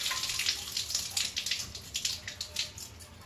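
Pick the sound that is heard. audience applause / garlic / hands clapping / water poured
water poured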